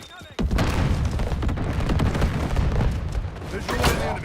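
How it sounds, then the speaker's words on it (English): A thrown grenade going off in Modern Warfare 4 multiplayer: a sharp, loud blast followed by a sustained roaring rumble that carries on for several seconds, with another burst near the end and game noise around it. "Throwing grenade!"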